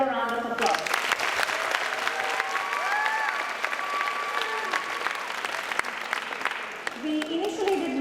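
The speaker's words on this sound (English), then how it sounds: "Let's give these beautiful dancers another round of applause" Audience applause for dancers at the Visharad 2025 event: a steady, dense wash of clapping fills the whole stretch, with a voice and some tonal sound briefly at the start and end.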